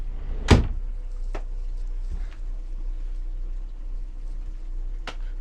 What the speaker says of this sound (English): our privacy door as well, which is a bifold door